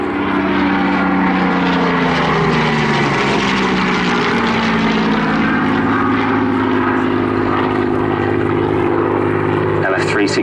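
A Battle of Britain Memorial Flight propeller warplane serving No. 63 Squadron flies past at the Southport Airshow 2019, its loud droning engine swelling and shifting pitch as it passes close, with a commentator talking over it.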